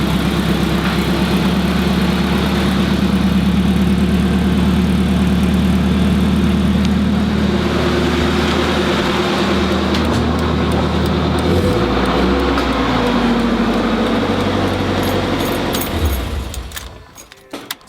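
A car fitted with a stainless steel exhaust idles with a steady, fairly quiet low drone and even hum throughout, fading out near the end.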